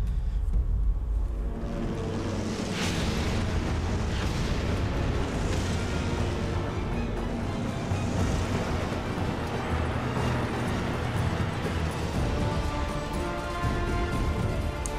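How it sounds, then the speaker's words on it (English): Tanks rolling in during Sniper Elite 3, a steady dense rumble of engines and tracks, with booming blasts spread throughout and no talk. "that was just a bunch of tanks rolling in"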